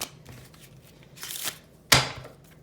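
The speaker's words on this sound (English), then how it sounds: "I'm going to do my best to shuffle the cards." Playing cards are shuffled by hand in a few quick riffling bursts, the last one loudest and sharpest, with quiet pauses between and no talking.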